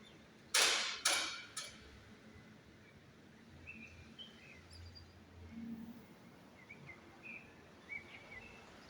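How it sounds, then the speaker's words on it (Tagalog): Birds calling outdoors in Bordighera, Italy in winter, faint scattered chirps over quiet background noise, after a few loud sharp knocks near the start. "May mga ibon na din."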